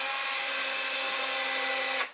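A power drill whirs steadily for about two seconds, driving screws into the ends of a scrap wood toolbox, then winds down abruptly at the end, close and loud with no talking.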